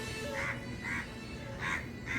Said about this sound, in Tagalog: Daming uwak. Grabe. Ayun. Kalapati at uwak.